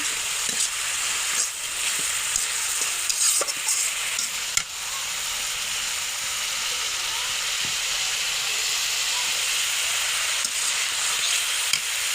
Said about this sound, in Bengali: এই যে শুটকিটা ভাজা ছিল, এখন আমরা দিয়ে দেবো ভাজা করার জন্য